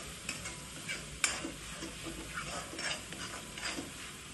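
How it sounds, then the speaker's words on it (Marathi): Masala roasting in oil in a pan for a mutton dish, with a faint, quiet sizzle and soft intermittent stirring scrapes and one sharper clink, no voices. "तर साईडने तेल येईपर्यंत ते चांगलं भाजून घ्यायचं आहे"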